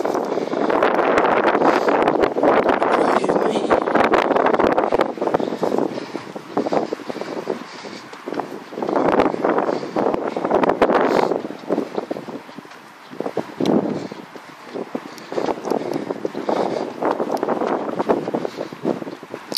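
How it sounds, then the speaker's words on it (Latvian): Steady wind buffets a microphone outdoors beside a road, with loud rumbling gusts that swell and drop over about twenty seconds and no talking. "Jo tomēr vējš, mašīnas un vēl dažādākie trokšņi."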